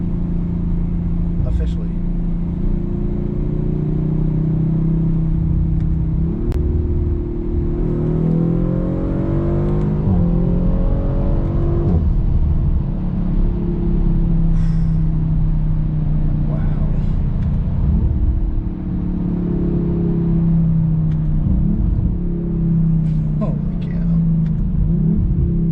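Audi RS5 engine drones steadily while driving, with a rising rev sweep partway through and occasional surges, heard from inside the car under continuous talk.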